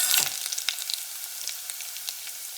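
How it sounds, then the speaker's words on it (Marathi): Garlic and grated coconut hit hot oil with mustard seeds and cumin, starting with a sharp burst of sizzling that settles into a steady, close frying hiss with light pops. "आता याच्यामध्ये घालायचं आहे लसूण खोबरं। हे चांगलं आपल्याला मिनिटभर परतून घ्यायचं आहे।"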